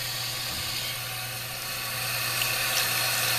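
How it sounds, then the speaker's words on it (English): Cold tap water running steadily as makeup brushes are rinsed clean, a continuous close splashing hiss at moderate volume with no voices. "I rinse my brushes clean with cold water."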